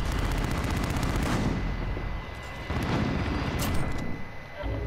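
Rapid automatic fire from the M13 assault rifle in Call of Duty: Modern Warfare, dense bursts of loud gunshots rattling almost continuously, with short pauses between volleys and a rumbling mix of battlefield noise underneath.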